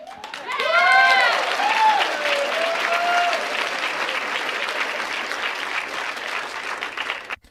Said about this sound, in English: gets an applause out of the crowd